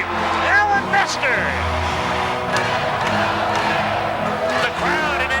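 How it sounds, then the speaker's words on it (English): A crowd in a hockey arena roars steadily during an International Hockey League game, a dense, loud swell of cheering and shouting over an announcer talking. "The crowd in anticipation now starting to roar a little bit"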